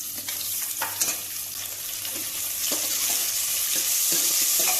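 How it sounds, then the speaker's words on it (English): Sliced onions fry in a hot pan of roasted spices for lamb korma, a steady close sizzle with occasional stirring scrapes that grows slightly louder toward the end. "then we just put some onions, sliced onions"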